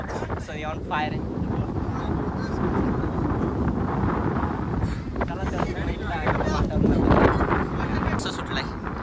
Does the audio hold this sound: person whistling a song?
no